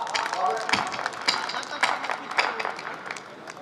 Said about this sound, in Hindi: तालियां एक बार मेरे लिए भी बजा दीजिए।